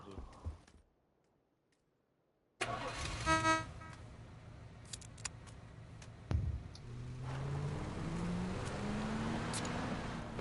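A car engine driving in the PUBG video game on PS5, a steady motor drone with a horn toot and clicks, under voices talking.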